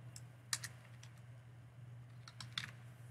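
Typing on a computer keyboard, a few quick bursts of light key clicks with pauses between, close and fairly quiet over a low background hum.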